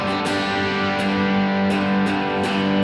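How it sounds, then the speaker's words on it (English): Distorted electric guitar chords strummed in a worship song progression, each chord ringing out thick and sustained with a fresh attack roughly every half second to second, loud and alone. "I probably put on the distortion here"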